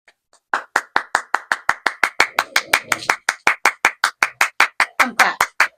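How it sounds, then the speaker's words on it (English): Hands clapping in a steady, even rhythm of about two dozen sharp, close claps, a few scattered voices faintly underneath. "Come clap. Come clap."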